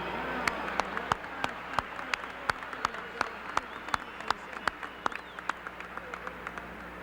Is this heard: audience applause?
yes